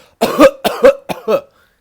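Four sharp coughs in quick succession, close and loud, in two pairs separated by brief pauses.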